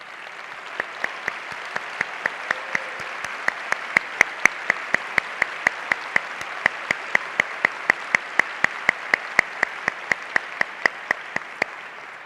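A conference audience at NCSC17 applauds the teachers standing among them: a long, steady run of distinct, evenly paced claps, sharp and close, continuing for several seconds without voices.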